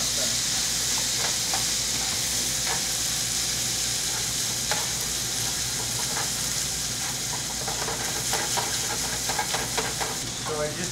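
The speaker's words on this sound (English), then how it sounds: "I'm just gonna add the pasta. And there's my fettuccine. And we're just gonna toss them." Fettuccine is tossed and stirred in a hot pan, giving a continuous loud sizzle with scattered scraping and clattering of the pasta against the pan, while a low hum runs underneath.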